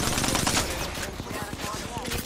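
Rapid automatic gunfire from a weapon in the battle royale game Apex Legends, a dense burst of evenly spaced shots in the foreground with game effects around it.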